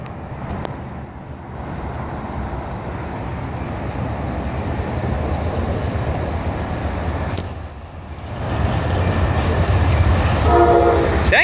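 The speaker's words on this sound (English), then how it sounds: "Amtrak's P92." An Amtrak P92 passenger train rumbles past close by, a loud continuous roar of wheels and rail noise that swells near the end, with a brief horn sounding.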